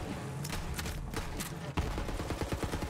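Gunfire in the Borderlands 3 video game hammers at a vehicle, with rapid automatic bursts rattling continuously and a heavier blast partway through as the shooting keeps on loud and dense.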